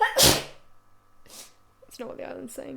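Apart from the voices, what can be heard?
sneeze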